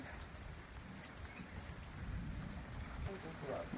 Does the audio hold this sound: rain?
yes